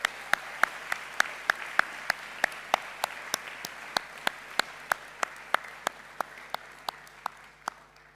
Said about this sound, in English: Can we please have another round of applause for all of our special award recipients?